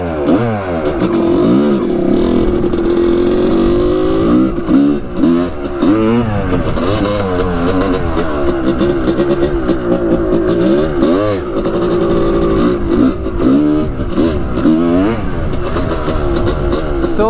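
A $700 Honda CR250 dirt bike engine revs loudly and continuously, its pitch sweeping up and down in repeated throttle blips close by, with no talk over it.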